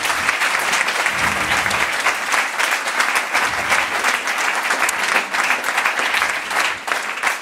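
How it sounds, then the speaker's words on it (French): An evening conference audience claps in a loud, dense, sustained round of applause that holds steady throughout, with no speech over it. "je vous propose de l'applaudir"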